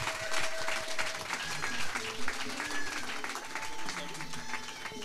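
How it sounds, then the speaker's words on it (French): Applause from a church congregation during a French-language sermon, steady dense clapping across the whole stretch with sustained tones and some voices mixed in underneath. "Vos applaudissements."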